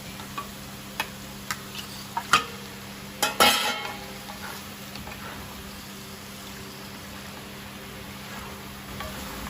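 Duck meat dropped into a pan of cooking tomatoes, several sharp clinks and taps of a spoon followed by a steady low sizzle as it is stirred.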